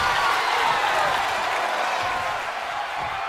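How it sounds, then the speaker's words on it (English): A loud wrestling-arena crowd in WWE 2K23, during Kamala versus Undertaker, roars and applauds in a dense, steady wall of noise that eases slightly toward the end, with no clear speech on top. "when you can't hear yourself think because the crowd's so loud"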